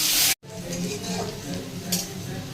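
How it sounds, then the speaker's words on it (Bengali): Chopped onion sizzles in a pan of hot oil with whole spices, a close steady frying hiss broken by a brief silent gap near the start and scraping stirring sounds. "এবার দেবো একটু পেঁয়াজ কুচি"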